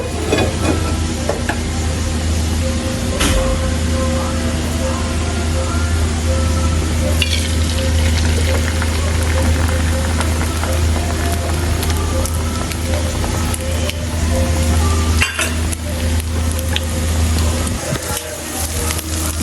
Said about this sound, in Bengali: তো গাইস ডিমটাকে ভেজে নিতেছি